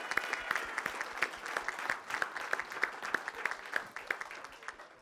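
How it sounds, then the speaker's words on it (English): Conference audience applauding Samantha at opening remarks, a sparse, fairly faint clapping with individual sharp claps standing out in an irregular rhythm, continuing steadily without speech. "please give Samantha a round of applause for the brick that she brought today"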